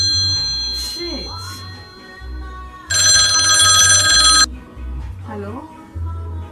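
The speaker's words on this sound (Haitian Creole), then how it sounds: "Oui, le téléphone va sonner." An old-style telephone bell rings in a sustained burst of bright, metallic trilling at close range, with people talking before and after it and a low hum underneath.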